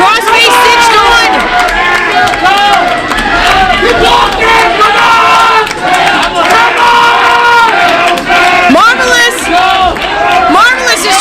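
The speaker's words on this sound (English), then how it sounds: "Crowd yelling to Marvelous to tap." A wrestling crowd at a match yelling and chanting loudly and continuously, many overlapping voices shouting together in a dense, packed roar close around.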